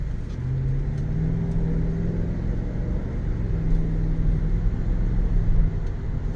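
A 2023 Chevrolet Suburban Z71 drives along with a low, steady engine rumble and smooth, barely noticeable gear changes, heard from inside the cabin without talk.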